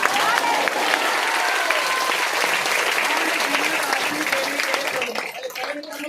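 Church congregation clapping together in steady, loud applause through a worship service, with a preacher's voice faintly audible under the claps and some rhythmic musical tones near the end.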